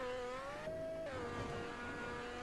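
Car engine and exhaust in The Crew, a racing game, with a steady droning tone that climbs, drops briefly and then holds, loud and continuous with no voices.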